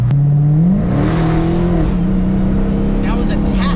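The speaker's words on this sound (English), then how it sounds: "Once you hear that supercharger starting to wind up." Dodge Charger Daytona Hellcat accelerating hard with its supercharger winding up, a loud rising engine roar and whine heard from inside the car, with people talking over it.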